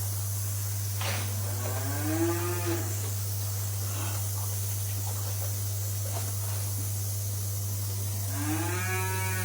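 Two long, drawn-out moos from cows in a dairy barn, one early and one near the end, heard over a constant machinery hum and hiss with faint clatter between them.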